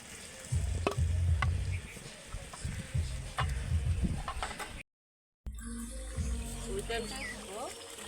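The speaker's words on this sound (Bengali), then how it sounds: "মাছটা দিয়ে দিচ্ছি, ভাজা মাছ।" Fried tilapia pieces being added to a bubbling, sizzling curry in a pan, with steady frying noise and low thumps throughout and a brief gap of silence midway.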